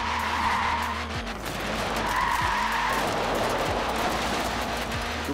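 A tiny car in Forza Horizon 4 skids with continuous tire squeal laying down rubber, a sustained screech over a steady engine drone, with pitch shifting repeatedly as the slide changes.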